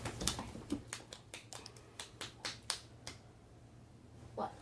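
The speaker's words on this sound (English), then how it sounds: "I clapped" Hand clapping, a quick run of about a dozen sharp, light claps in an uneven rhythm, close and fairly quiet, trailing off, with one last muffled clap after a pause.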